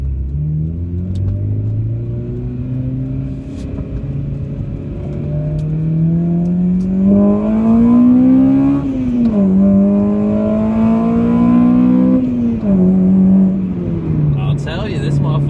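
A 2002-2004 Acura RSX Type-S engine revs hard nearby, its pitch climbing and dipping in sustained, loud sweeps as it is pushed up to about 8,600 rpm.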